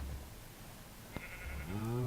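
Sheep in a blocky video game community farm area, a single faint bleat near the end, rising and wavering, over quiet background hiss.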